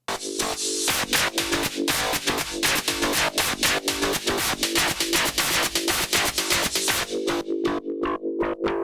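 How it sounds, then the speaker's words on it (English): A steady drone from Ableton's Roar effect fed a polyrhythm hums underneath dense, rapid percussive hits, its pitch wavering up and down as the loud texture keeps going. "So that drone sound is going to kind of be going up and down,"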